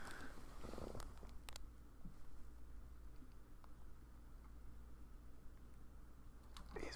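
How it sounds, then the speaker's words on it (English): A cat purrs steadily and close by, a soft continuous low rumble that lasts throughout with no talking over it. "I can hear you purring all the way over here."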